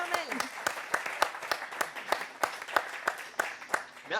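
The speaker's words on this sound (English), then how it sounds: "On vous applaudit." Studio applause of evenly spaced, rhythmic hand claps, a few per second and fairly crisp, with people talking over them throughout.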